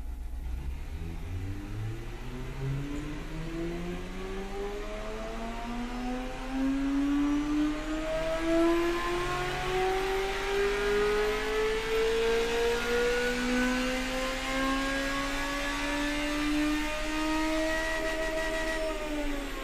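A car engine in the Automation game, a turbocharged unit with throttle-per-cylinder intake and a 9600 RPM limit, revs steadily upward in one long climbing pull, loud and close, with a faint whistle high above and no talk.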